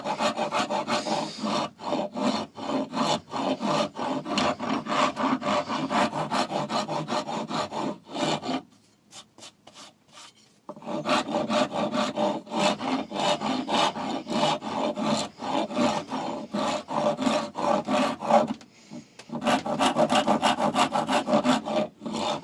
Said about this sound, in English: Get sanding it.